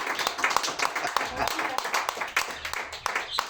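A church congregation claps during a Spanish-language sermon, giving a run of scattered, uneven claps over several seconds while a voice keeps talking above them.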